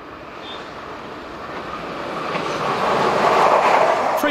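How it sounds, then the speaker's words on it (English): A Siemens Regio Sprinter diesel multiple unit passes on a German line toward Falkenstein, a broad rolling rumble and hiss that swells steadily louder as it draws near. "A service to Falkenstein follows, formed of a Siemens Regio Sprinter diesel unit."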